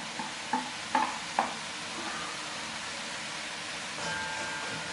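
Pork neck sizzling and frying in a kazan over full gas, a steady loud hiss with a few stirring scrapes early on.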